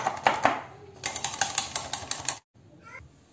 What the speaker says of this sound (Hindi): मिला के अच्छी तरह से बीट कर लेंगे। अच्छी तरह से इसे बीट कर लें।